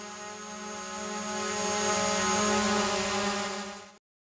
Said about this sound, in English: Drone.